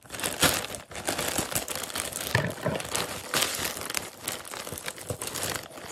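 Plastic packaging from a cheap Temu parcel crinkles and rustles continuously as it is torn open, a close, dense crackling with sharp bursts of tearing throughout.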